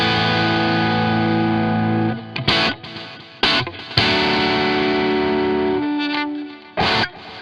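Electric guitar through a Two Notes ReVolt amp simulator with enhancer and a subtle delay, loud distorted chords ringing out with sustain, several sharp pick attacks and brief gaps, no talking.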